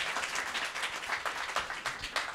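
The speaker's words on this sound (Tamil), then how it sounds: "எல்லாரும் இந்த இடத்துல அன்னைக்கு ஒரு கைத்தட்டல் கொடுத்துடலாம்" An audience claps and applauds at a fan meet-up, a dense, steady burst of many hands clapping together at close range, with no speech over it.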